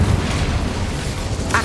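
A burst of the Incendio fire spell in Hogwarts Legacy: a loud, rumbling, explosive whoosh with heavy low-end boom that holds steady throughout, with a brief brighter flare near the end.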